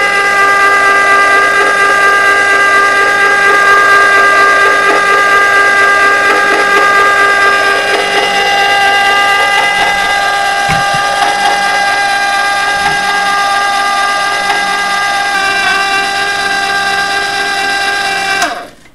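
An ice cream machine churns milk and cocoa with a steady, loud mechanical whine and layered humming tones that hold evenly throughout, then cut off abruptly at the end.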